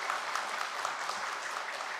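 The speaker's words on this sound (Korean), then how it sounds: "박수로 환영하도록 하겠습니다" Steady applause from a church congregation welcoming a soon-to-be-married couple at a Sunday service, dense even clapping filling the room without a break, no voices standing out.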